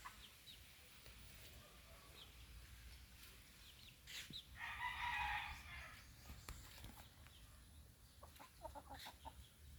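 Native chickens cluck softly outdoors, with a louder squawking burst midway through and scattered faint calls around it.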